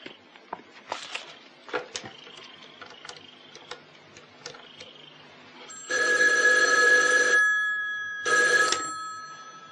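A telephone rings twice in long bursts, loud and near, after a few seconds of quiet clicks and small room noises.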